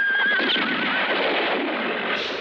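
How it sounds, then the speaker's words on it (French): Horses neigh loudly and continuously in a western film scene, a shrill whinny rising over a dense wash of galloping hooves and commotion, close and sustained throughout. "Mais attention, les chevaux sautent!"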